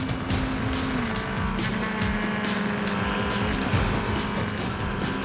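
A motorcycle speeds through city traffic at high velocity, its engine a steady, loud, continuous drone with a shifting pitch, held close throughout with no pauses.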